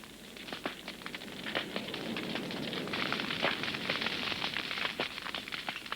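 Grass burning on an African riverbank, a steady crackling and popping blaze with sharp snaps scattered over a constant roar, moderately close and heard alone without voices.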